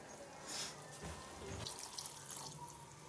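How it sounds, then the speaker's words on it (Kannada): Water running and splashing steadily for a few seconds as it is poured into a pan of jackfruit curry, with a brief louder gush near the start, no voices. "ನಾನು ಇದಕ್ಕಿಂತ ಸ್ವಲ್ಪ ನೀರು ಹಾಕ್ಕೊತೀನಿ"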